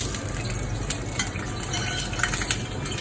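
Garlic frying in olive oil in a pan, a steady close sizzle with faint stirring and light utensil clinks throughout, no talking.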